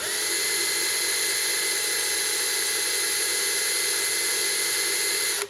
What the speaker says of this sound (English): And now I'm going to do some drilling, pilot drilling, okay?